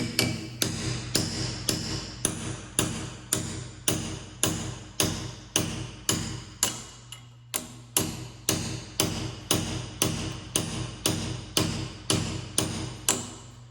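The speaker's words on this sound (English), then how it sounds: "I'm not looking at the chisel when I'm hammering." A steel hammer strikes a cold chisel in a steady, even rhythm of about two blows per second, each a crisp, ringing metallic hit. The blows come close and alone, with one short pause midway and no talk.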